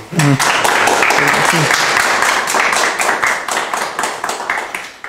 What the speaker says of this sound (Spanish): le damos otro fuerte aplauso